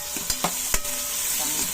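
Ingredients sizzle in a hot pan while being stirred for ginataang tahong, a steady frying hiss broken by a few sharp scraping clicks of the utensil against the pan.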